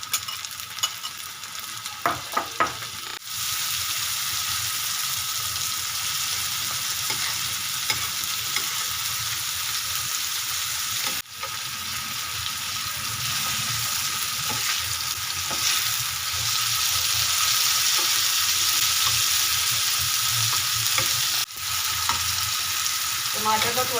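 Tomatoes added to lightly pinked onions frying in a pan, a dense continuous sizzle with scraping stirs and clacks of a utensil, steady and close for the whole stretch.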